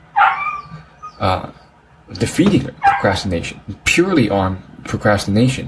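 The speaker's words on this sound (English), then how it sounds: "if you guys can hear that sound in the background, sorry about that. That's a dog." A dog barks and whimpers in the background while someone talks steadily in the foreground about a podcast, the short yips coming through between and beneath his sentences.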